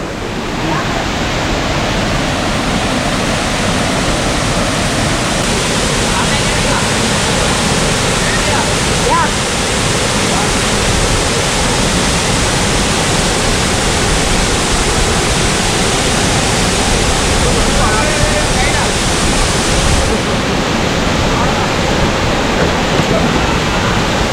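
Water at Aruvikkuzhi waterfall in Thadiyoor, Pathanamthitta, pours and splashes in a dense, continuous roar that stays loud and even from start to finish.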